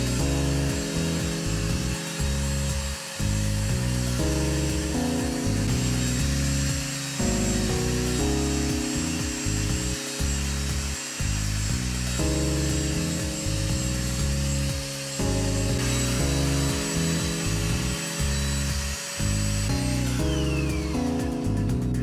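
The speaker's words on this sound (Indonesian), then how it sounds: "di sini lumayan cepat juga ya untuk pengecatan menggunakan spray gun elektrik ini" Electric spray gun Mollar ESG-303 spraying paint: a loud, steady motor hum with a buzzing drone, cutting briefly in and out a few times, close and continuous with no voices.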